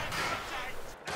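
Bursts of gunfire crack through a video game battle set on British fronts, a dense noisy burst up close followed by a short gap and another shot, under faint speech.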